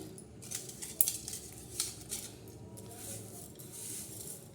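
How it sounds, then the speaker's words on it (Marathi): Dry chana dal is stirred into urad dal in a vessel, giving soft, scattered clinks and gritty rustles at close range, quiet and irregular. "ह्या डाळीमध्ये ही डाळ मिक्स करणार आहोत हरभऱ्याची उडदाच्या डाळीत अशी"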